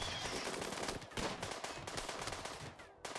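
Dense rapid gunfire from a RimWorld colony battle against a Mega Scarab, quiet crackling bursts running continuously with little pause and a faint voice mixed in.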